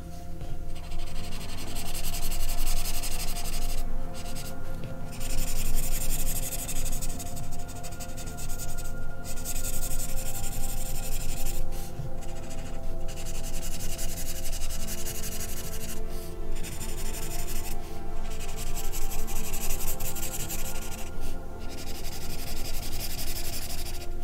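Colored pencil rubbing steadily across paper in a Kira Shershnev 'Country Life' coloring book, a continuous close scratchy shading sound with brief pauses between strokes and no talking.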